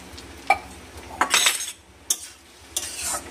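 A spoon stirs chili pasta sauce thickened with a cornflour mixture in a pan, giving a few distinct metallic clinks and scraping swirls close by, with no voices.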